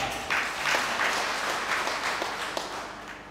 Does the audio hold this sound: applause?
yes